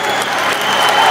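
Football crowd celebrating a cup win for Joe Ledley's team, a dense wall of cheering and applause-like roar filling the whole moment, steady and loud with a slight swell toward the end, with a voice faintly underneath.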